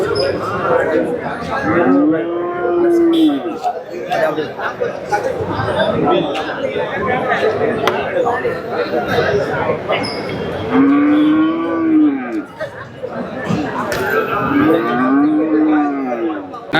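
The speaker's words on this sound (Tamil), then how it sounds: "தருமபுரி மாவட்டம் காரியமங்கலம் மாட்டுச்சந்தையில் தாங்க இருக்கோம்" Cattle moo repeatedly at the Karimangalam cow market in Dharmapuri, three long drawn-out calls rising over a constant din of crowd chatter and livestock.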